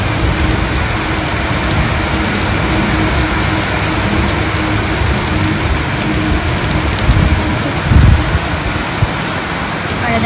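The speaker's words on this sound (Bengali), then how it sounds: "ভালোই বৃষ্টি হচ্ছে।" Heavy rain pours steadily and loudly close by, a dense unbroken wash of drops on surfaces that holds without pause, with a brief heavier thump near the end.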